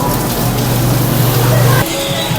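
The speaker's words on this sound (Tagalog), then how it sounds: "Ayan, malakas ang ulan." Heavy rain falls outside in a loud, dense, continuous hiss with a low steady hum underneath that stops near the end.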